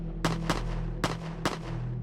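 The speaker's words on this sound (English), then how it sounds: "Breivik was just approaching the cafe when he fired at 3 campers at the front entrance." Four sharp rifle shots ring out at the front entrance of a youth camp cafe during the 2011 Norway attacks, spaced unevenly, each a sudden loud crack over a low steady hum.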